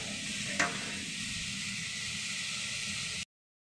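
A vegetable fry sizzles steadily in a pan over a weak, low gas flame, with a soft continuous hiss and one brief clink near the start, then cutting off abruptly.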